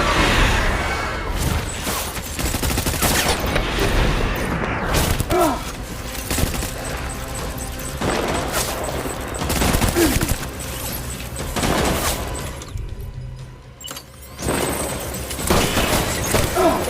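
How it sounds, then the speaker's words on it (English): Heavy, sustained gunfire fills a Death Stranding firefight, loud and dense with thuds, booms and shattering impacts, with brief shouted voices mixed in. "Shoot the motherfucker!"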